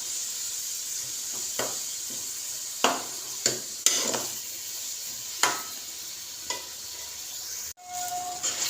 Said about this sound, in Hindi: कढ़ाई में 1 कप ऑयल लिया है और 3 छोटे साइज़ के प्याज छोटा छोटा चॉप करके इसमें डालेंगे